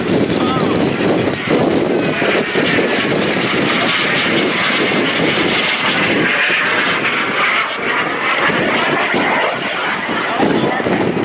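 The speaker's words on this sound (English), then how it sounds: "watch this airplane that is only 16 feet long, has a wingspan of 18 feet, and watch Tom as he's" Small aerobatic airplane, only 16 feet long with an 18-foot wingspan, flown by Tom Larkin at the 2024 MCAS Cherry Point air show: a steady, loud engine roar that swells and shifts in pitch as it passes, with wind buffeting throughout.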